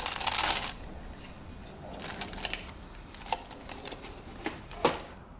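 Mexican .925 silver coins clink and drop, with a loud burst of jangling at the start followed by scattered sharp metallic taps and clicks, close up and alone.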